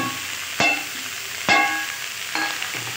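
Spring onion and soybean sabzi with added spices sizzles in a pan, a steady close frying hiss broken by a few sharp clanks of the stirring spoon against the pan.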